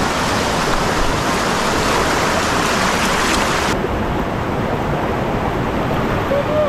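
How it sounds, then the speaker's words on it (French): Victoria Falls, a waterfall in Dominica, roars as loud, steady rushing water filling the whole scene without a break, with no talk over it. "Elle nous a amené jusqu'à Victoria Falls."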